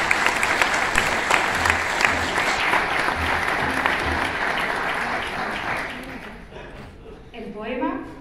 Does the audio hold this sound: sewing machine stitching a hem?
no